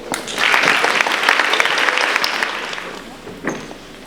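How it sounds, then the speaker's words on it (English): Applause from an audience at a school prizegiving, a full burst of clapping that swells quickly, holds for a couple of seconds, then fades away, with a brief late clap spike. "Round of applause."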